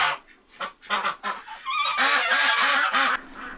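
Loud honking quacks from several ducks close by, a rapid run of repeated calls building into a steady chatter.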